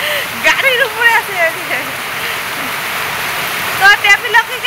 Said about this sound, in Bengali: প্রচণ্ড বৃষ্টি শুরু হয়ে গেছে, দেখতে পাচ্ছ, মানে একটুকু বৃষ্টি থামছে না